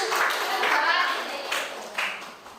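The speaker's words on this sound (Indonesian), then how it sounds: "Beri tepuk tangan untuk kelompok Blackpink." Students in a university micro-teaching classroom clap for a presenting group, a short burst of scattered, fairly close applause that swells and fades over a couple of seconds, with faint voices mixed in.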